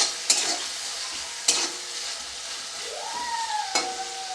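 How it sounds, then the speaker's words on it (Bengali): Onions with half a spoon of salt fry in a pan for a fish curry, giving a constant close sizzle broken by a few sharp scraping stir strokes, with a brief tonal squeak near the end. "লবণটা দিয়ে কিছুক্ষণ নাড়বো যাতে পেঁয়াজটা তাড়াতাড়ি নরম হয়ে যায়।"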